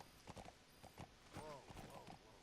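Horse hooves clip-clopping on a road in the video game Metal Gear Solid V, a steady trotting rhythm of soft thuds with a faint whinny-like tone, quiet and low in the mix.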